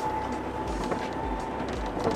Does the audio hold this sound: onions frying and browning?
no